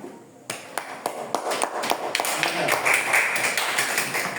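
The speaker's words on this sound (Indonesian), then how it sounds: "kita tepuk tangan buat mereka" Classroom audience clapping for students during an open class lesson, scattered individual claps starting sparse and building into steady, fairly close applause.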